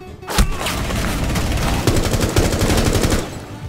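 Sustained automatic gunfire from Rainbow Six Siege, a fast burst of loud shots with a few heavier booms, running steadily for several seconds before cutting off.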